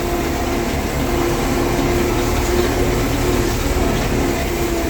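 A YuMZ 4x4 tractor engine runs steadily while the tractor works a field, a loud, constant low rumble with a faint humming tone and no speech.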